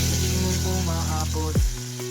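Barracuda fish pieces sautéing in a pan with buttered garlic, giving a steady close sizzle with a sharp crackling burst near the end.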